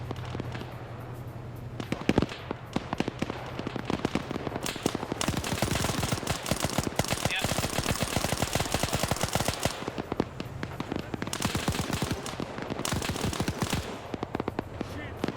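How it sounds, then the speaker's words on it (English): Dense, rapid automatic gunfire from soldiers in a Sierra Leone RUF campaign video game battle, with crackling bursts overlapping almost continuously, loud and close. "I feel like they're shooting themselves more than the actual guy."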